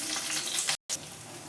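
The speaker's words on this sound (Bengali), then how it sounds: "কড়াই সাদা তেল দিয়ে দিয়েছি, গরম হয়ে গেছে তেলটা একটু। এবার কড়াইশুঁটি বাটাটা একটু দিয়ে দিচ্ছি।" Raw green pea paste dropped into hot white oil in a wok makes a loud, close burst of sizzling hiss, broken by one brief gap.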